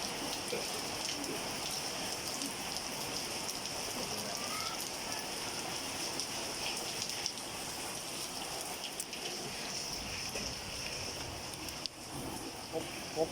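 Steady rain pattering on a surface, a continuous dense hiss of drops with no break, fairly close and even in loudness throughout.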